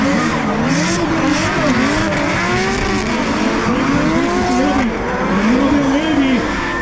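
BMW cars drift around the race track at Mondello Park, Ireland, with continuous loud engine roar and squealing tires that rise and fall in waves, and a commentator talking over the noise.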